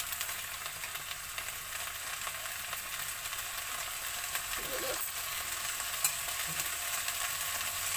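Frying in a pan while making coconut rice, a soft continuous sizzle at low level with faint stirring clicks now and then.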